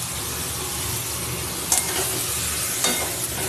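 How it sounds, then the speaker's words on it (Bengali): Spiced masala and shrimp fry hard in a pan, a steady close sizzle broken by a couple of sharp scrapes of the spoon as the mixture is stirred. "ভালো করে আমি কষিয়ে নেবো বেশ কিছুক্ষণ ধরে। আর কষাতে কষাতে চিংড়ি মাছটাও আমি দিয়ে দেবো"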